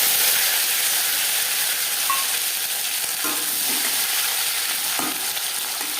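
Tomato pieces frying in hot mustard oil with whole cumin, a loud continuous sizzle and hiss close by, with a few faint stirring scrapes partway through.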